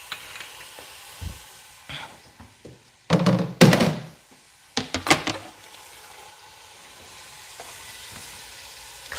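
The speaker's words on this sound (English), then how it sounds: "we're gonna get this chicken in, and while the chicken is cooking" Chicken sizzles in a hot pan, with bursts of frying hiss and a few thunks and scrapes of stirring between quieter moments.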